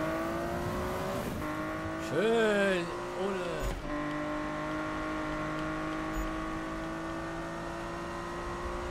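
A Porsche RSR racing car with a naturally aspirated engine drives in a Need for Speed racing game, holding a steady droning engine note with a brief rev and upshift partway through, while someone talks over it.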